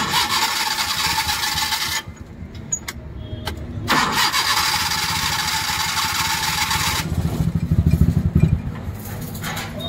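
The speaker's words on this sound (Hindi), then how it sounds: "गाड़ी स्टार्ट नहीं हो रही है" A Maruti Suzuki Omni CNG van with a silencer fault tries to start: the starter grinds and rasps loudly in long bursts, broken by a brief pause and a few clicks, and the engine never catches.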